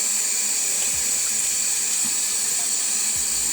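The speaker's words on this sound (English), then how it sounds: "you make sure you wash it properly under running water" Salt mackerel washed under a running tap, a steady hiss of water flowing into a sink with a few faint knocks, close and continuous, with no talking.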